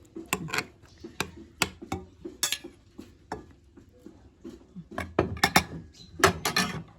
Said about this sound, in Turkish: İyice karıştırıyoruz.